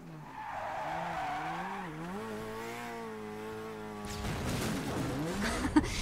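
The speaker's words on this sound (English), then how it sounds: "Those turbo noises are just chef's kiss" Ken Block's rally car during a Gymkhana run, its tires squealing in long skids with rising and falling pitch, then a rougher burst of engine and turbo noise, loud and continuous for about six seconds.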